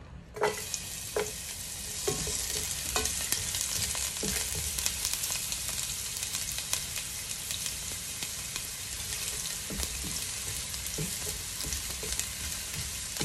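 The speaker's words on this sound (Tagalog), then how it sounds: "Magigisa po tayo. Lagyan natin ng konting oil." Ginger sautéing in a little oil for spicy squid, a constant loud crackling sizzle with scattered scrapes and taps of a utensil against the pan throughout.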